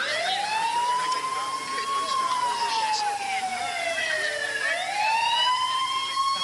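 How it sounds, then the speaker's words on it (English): An approaching ambulance siren wails, sweeping up and down in long, loud glides, rising again near the end, with faint traffic rumble beneath. "When the ambulance drove up,"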